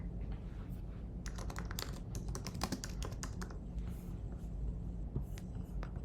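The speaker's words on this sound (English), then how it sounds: "For that, we need to type the command terraform init." Close, quiet keyboard typing as the command terraform init is entered in a terminal, a quick run of light key clicks with a short pause near the end, no voices.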